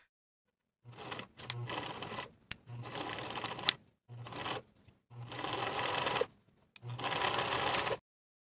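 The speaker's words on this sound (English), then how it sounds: "we'll be sewing along the original template line to sew those pieces together" A sewing machine stitches welt pocket pieces together for a dress, running in five or six separate bursts of steady whirring, each a second or so long, with short quiet pauses between them.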